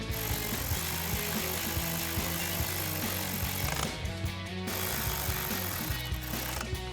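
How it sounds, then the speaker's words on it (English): A ratchet with a 10 mm socket tightens bolts during a Eibach Pro-Truck coil-over install on a 2019-2024 Silverado 1500. Rapid, steady mechanical clicking runs loud and close throughout. "we'll take our 10 millimeter socket to tighten those both down"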